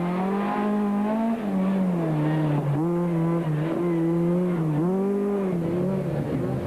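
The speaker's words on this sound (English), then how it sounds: "the sight and sound of a full-blown rally car driven by masters of their craft" A rally car racing on gravel at the 1998 Rally of South Africa, engine roaring continuously at high revs, pitch rising and dipping with gear changes, loud and steady with gritty background noise.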